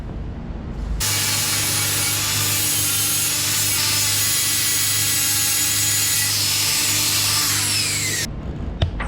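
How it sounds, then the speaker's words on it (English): Angle grinder grinding down welds on Volkswagen Beetle bodywork during a restoration, a loud, harsh, continuous abrasive whine lasting about seven seconds, starting and stopping abruptly, with no talking. "I think I'm quickly going to grind down this welding."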